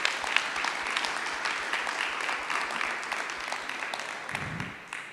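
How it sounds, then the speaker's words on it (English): A public meeting audience claps for committee members in a round of applause that stays even and sustained, then fades out at the end. "if we could just give them a round of applause, because they did a lot of work on this"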